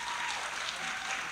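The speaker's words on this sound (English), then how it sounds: "So another round of applause for Jeanette Davila, please." Faint, steady applause from the crowd at a community college fall convocation, a short wash of clapping with no talking over it.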